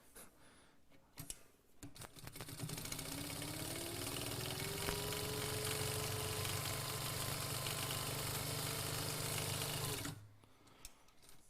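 A sewing machine runs steadily for about eight seconds while stitching thick bag fabric, its nearly empty bobbin rattling beneath the motor's whir, with brief handling clicks before and after.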